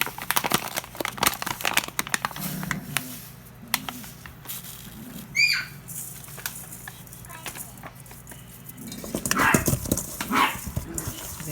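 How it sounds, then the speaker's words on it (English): Puppies bark in short bursts, scattered yips and yaps mixed with clattering kitchen noises, strongest near the start and again toward the end, at moderate distance. "There goes those puppies."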